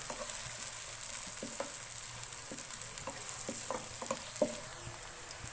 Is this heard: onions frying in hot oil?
yes